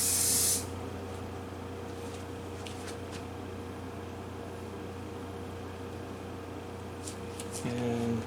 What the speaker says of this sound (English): Now I'll spray the second spray onto the paper towel over by the fart fan.